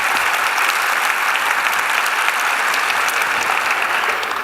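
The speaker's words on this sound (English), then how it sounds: "Give yourselves a round of applause." Loud, steady audience applause at a national volunteer service conference town hall, dense clapping filling the room without a break and no voices over it.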